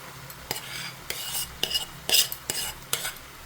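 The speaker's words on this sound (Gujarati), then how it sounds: "એ આપણે અંદર એડ કરીશું અને આ રીતે બરાબર મિક્સ કરીશું" Mashed boiled potatoes are mixed in a bowl, giving soft, irregular stirring and scraping with a few sharp utensil clicks against the bowl, fairly close and without talk.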